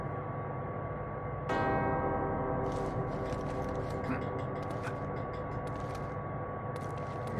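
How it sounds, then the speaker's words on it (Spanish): Two crypt bells in Uncharted: Drake's Fortune ring out together with one sudden struck onset, leaving a long sustained tonal hum that lingers steadily over faint mechanical clicks and ambient game sound. "Sí, sí, dos campanas en perfecta armonía."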